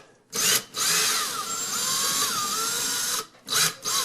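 A power drill bores through a wall while a round vent hood duct is being installed, giving a loud, close, whining grind in two sustained runs broken by brief stops and short bursts.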